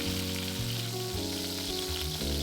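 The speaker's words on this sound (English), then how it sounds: "Start by pan frying chicken thigh in sesame oil over medium-high heat." Chicken thigh sizzles in sesame oil in a pan over medium-high heat, giving a steady close crackle. Soft background music plays with no voices.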